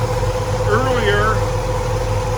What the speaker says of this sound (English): The engine is idling about 725 RPM right now.